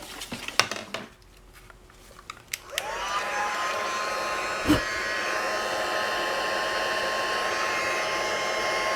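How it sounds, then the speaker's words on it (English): After a few light clicks and taps at a craft table, a heat tool for melting embossing powder switches on with a rising whir, then blows in a steady, fairly loud hum until the end. "So now let me bring the heat tool."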